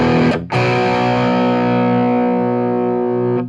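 A high-gain, heavily distorted electric guitar through a Bogner Ecstasy Mini 30-watt amp head rings out: a short hit cut off, then a loud sustained chord decaying slowly over about three seconds, alone.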